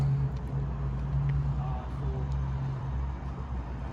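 Late-night street traffic in Toronto makes a constant low rumble of passing cars, with voices talking faintly over the steady roadway drone.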